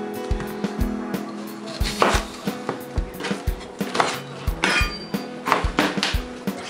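Knife chopping a full clove of garlic on a cutting board, a quick series of sharp percussive knocks in an uneven rhythm, close and fairly loud, with faint clinks in between and no talk.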